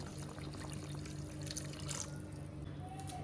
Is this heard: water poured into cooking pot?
yes